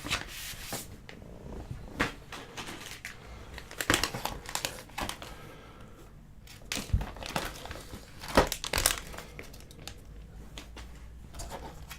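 Plastic bags holding sticky parts for an R2-D2 model kit crinkle and rustle as they are unpacked, a run of soft, close, irregular crackles with sharper bursts now and then.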